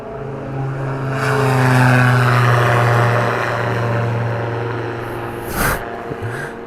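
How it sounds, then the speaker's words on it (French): A small propeller airplane takes off nearby, its steady droning engine tone swelling and then slowly fading as it pulls away, with a brief sharper noise near the end. "Vous avez déjà vu un petit avion décoller?"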